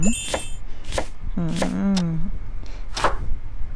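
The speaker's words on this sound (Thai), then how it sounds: "มันฝรั่งนะ หั่น" Potato chopping in the video game Cooking Mama Cuisine while making minestrone soup: a series of crisp, separate chopping hits, with a person talking and exclaiming in the middle.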